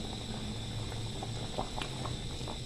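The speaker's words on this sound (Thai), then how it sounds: "กะทิที่เราใส่ยอดพาวไว้ เดือดแล้วครับ" Coconut milk with young coconut shoots bubbles at a steady boil in a pot, a continuous close simmering hiss broken by scattered soft pops and blips, with no voices.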